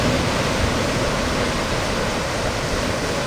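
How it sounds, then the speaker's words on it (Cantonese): Sea surf at Big Wave Bay on the Hong Kong coast roars loudly and steadily, a dense continuous wash of breaking waves with no voices over it. "好海浪啊！"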